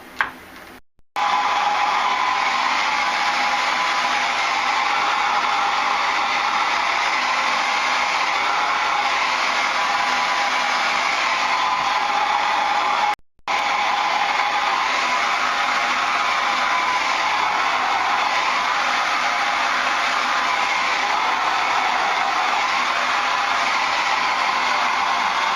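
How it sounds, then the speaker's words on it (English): A hair dryer blow-dries hair, its loud, steady airy roar running close and continuous, cutting out briefly near the start and again partway through, with no voices. "usually at this point of blow drying"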